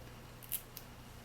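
A wooden skewer, already scored with scissors, gives a short sharp snap followed by a smaller crack, faint against a quiet background.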